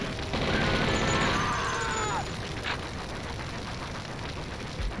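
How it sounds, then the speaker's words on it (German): Tommy gun bursts in the shooter game Blood, a dense rattle of rapid shots in the first couple of seconds, loud and close, trailing into noisy game ambience. "Nehmen wir mal ein bisschen die Tommy-Gun,"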